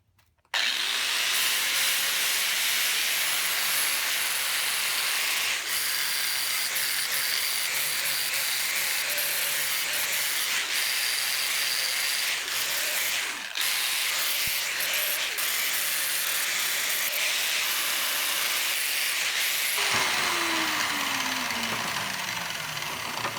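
A flap disc on an angle grinder works a 3/16-inch steel plate for a roll bar mount: a continuous loud, harsh grinding whine with a gritty rasp runs for over twenty seconds, wavering slightly as pressure shifts, then winding down near the end.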